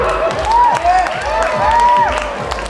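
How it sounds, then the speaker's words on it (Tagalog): A crowd at a cosplay event in a mall hall claps and cheers for a costumed participant, with overlapping raised voices and whoops riding over a continuous patter of applause. "Palakpak?"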